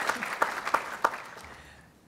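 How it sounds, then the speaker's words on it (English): Brief scattered applause from an audience at a human rights awards ceremony: a handful of distinct claps that quickly thin out and fade, with no one speaking. "You can clap them."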